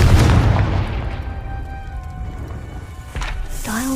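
The Confringo fire spell detonates as a loud, booming explosion in the Hogwarts Legacy video game, with a heavy close blast that fades over a few seconds and then a smaller thump.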